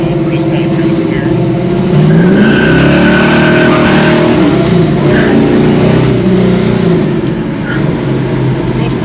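Hot rod car on 28x10.5 Mickey Thompson street slicks cruising, a loud low engine rumble with some revving heard from close by, with someone talking over it.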